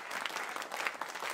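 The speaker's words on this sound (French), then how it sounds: "Vous pouvez tous les applaudir" Crowd at a tribute concert applauds, a brief steady spatter of many hands clapping at moderate level with no pause.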